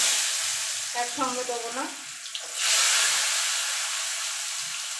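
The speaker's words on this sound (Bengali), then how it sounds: "তেলটা ভালো করে গরম হয়ে গেছে। এবার চাল কুমড়োগুলো ছেড়ে দেবো" Pieces of ash gourd dropped into hot oil set off a sudden, loud, hissing sizzle that keeps going steadily and close by, after someone speaks briefly.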